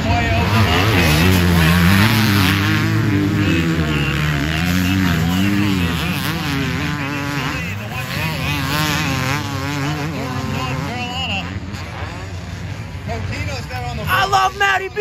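250cc motocross bikes race at an area qualifier, their engines buzzing and whining as they rev and shift pitch across the track, with an announcer commentating loudly over the steady racing noise.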